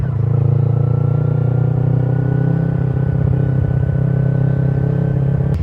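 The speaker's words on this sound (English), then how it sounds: "That's the Harleys." Harley-Davidson motorcycles riding past, a loud, steady, low engine rumble that holds without a break, heard close.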